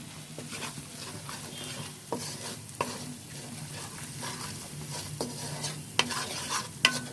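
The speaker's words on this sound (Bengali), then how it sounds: "সবগুলো মশলা খুব ভালো করে ভুনে নিতে হবে।" Spices for achari eggplant are fried and stirred in a pan, a continuous close sizzle broken by repeated sharp scrapes and knocks of the spoon against the pan, with no voices.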